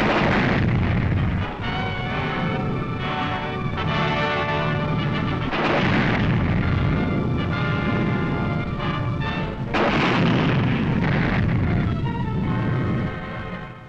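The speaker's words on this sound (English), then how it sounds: "A tank barrage supports the move." Heavy wartime artillery and tank barrage supporting an advance on the town of Emmerich in 1945, a dense, continuous roar of booming fire with repeated loud blasts throughout and no voices.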